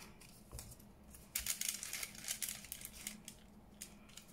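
Scissors snip through paper from a junk mail window envelope in a series of quick, faint, close cuts with short pauses between them.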